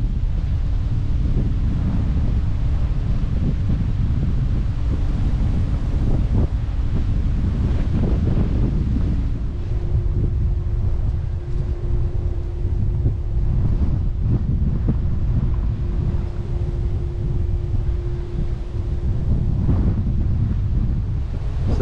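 Steady wind buffets the microphone aboard a boat on the River Bure in the Norfolk Broads, a continuous low roar with faint engine hum and water wash underneath, with no talk.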